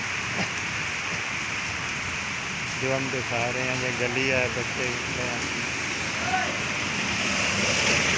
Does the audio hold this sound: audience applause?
no